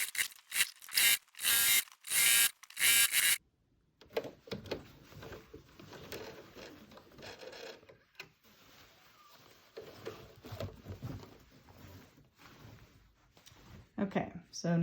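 Household sewing machine running a zigzag stitch through layered fabric for a face shield extension, heard as a steady mechanical whir with rapid needle ticking and short starts and stops, close by after a loud burst of clattering at the start.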